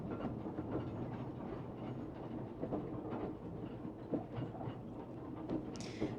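Heritage tram running at the East Anglia Transport Museum, a steady rumbling ride with rhythmic clickety-clack of wheels over rail joints and a brief high squeal near the end, continuous and close.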